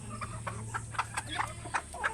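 A native rooster and hens on a backyard chicken farm cluck in short, repeated bursts at close range over a low steady hum, with no talk.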